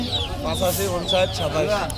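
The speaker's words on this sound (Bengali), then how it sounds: "রবিউল হোসেন ভাই তো ওনার কাছে আপনারা দেশি মোরগ মুরগি পাবেন" Native chickens cluck and call close by in a busy yard, several birds overlapping in a continuous chatter with a person talking underneath.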